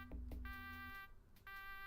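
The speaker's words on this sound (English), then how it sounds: "I don't know why the fucking alarm went off again" Alarm in the Shadowrun Genesis video game blaring in repeated electronic tonal bursts, two short pulses followed by longer sustained beeping, with a brief gap before it resumes; no talking.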